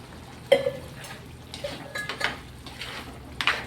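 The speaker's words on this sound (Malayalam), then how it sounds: "നന്നായി ഇളക്കിയിട്ട് അടച്ചു വെക്കാം" A spoon stirs food in a metal cooking pot, giving a few scattered clinks and scrapes over a steady low background hum, with no talk.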